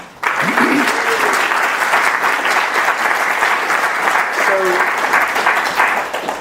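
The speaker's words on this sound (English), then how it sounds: "I don't think I deserve the applause." Audience applause at a speaker series event, steady and full throughout with a faint voice or two underneath.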